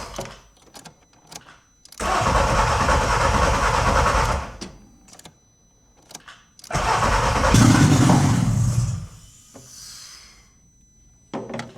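A swapped-in VW 07K engine in a Mk2 GTI cranks with a rough churning starter whir, then a second longer crank catches briefly and fires before dying away, close and loud, with clicks around it.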